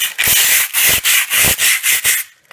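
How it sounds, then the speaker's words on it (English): Rhythmic back-and-forth sanding of a Lodge cast iron pan with 120-grit sandpaper, about eight strokes in quick succession, a loud close scratchy rasp with brief gaps between strokes. "So all you need is a fine grit sandpaper."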